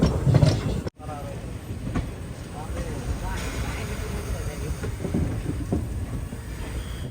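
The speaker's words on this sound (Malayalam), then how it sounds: "11:10 കരീംഗഞ്ച് ജംഗ്ഷൻ റെയിൽവേ സ്റ്റേഷനിലേക്ക് ഇതാ ട്രെയിൻ എത്തിയിരിക്കുകയാണ്." An Indian express train running from Silchar to Agartala pulls into Karimganj Junction. A steady, loud rolling rumble of the carriages holds after a brief cutout, with faint clatter and station bustle mixed in.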